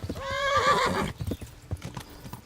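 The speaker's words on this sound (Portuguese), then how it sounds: "Meu Deus do céu, o cavalo tá morrendo." A horse in the medieval game Kingdom Come neighs loudly in a long whinny, then its hooves clip-clop in an uneven run of close, sharp knocks.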